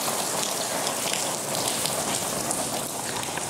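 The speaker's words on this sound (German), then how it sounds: "aber es regnet ohne Ende." Heavy rain pours in Bangkok as a dense, constant hiss of drops hitting surfaces, steady and close throughout with no voices.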